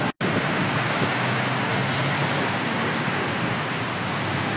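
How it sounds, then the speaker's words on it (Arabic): Heavy rain pours onto a street in a dense, steady hiss that fills the whole stretch after a tiny break at the start, with no voices heard. "الدنيا بتشتي سيولة على فكرة"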